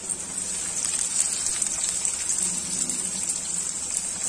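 Chopped onion goes into hot oil with golden-brown garlic, giving a steady, hissing sizzle that holds level throughout with no talk over it.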